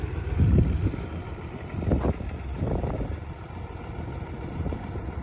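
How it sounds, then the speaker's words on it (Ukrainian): A tractor rolls along on its own across a farm field where late cabbage seedlings are being planted, its engine chugging low and steady at a moderate distance, with a few louder rumbling bursts. "ви таке коли-небудь бачили, щоб трактор сам їхав, а господар біля нього просто йшов, контролював"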